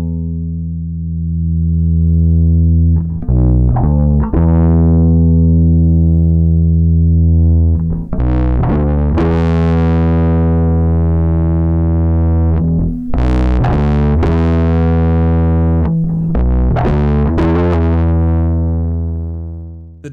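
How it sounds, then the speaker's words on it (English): Devoloop Sitbull RE rack effect adding tube-style pre-saturation distortion to a sustained, harmonically rich tone, with loud gritty phrases that swell, break off and restart in uneven bursts, standing alone without any voice. "Pre-saturation adds the rage tube distortion to the audio signal."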